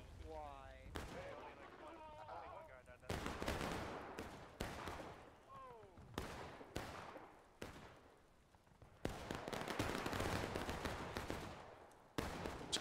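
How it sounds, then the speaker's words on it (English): Musket fire in the Civil War video game War of Rights, exchanged at long range in irregular bursts and scattered single shots, some fairly near and some distant, with someone talking over parts of it. "Some long distance shooting right now by the CSA"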